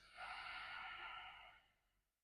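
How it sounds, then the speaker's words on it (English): One slow, deep breath leaves through the nose as a long, soft airy hiss. It is close and quiet and fades out gently after about two seconds, with no talking. "taking a deep breath in through the nose and out through the nose."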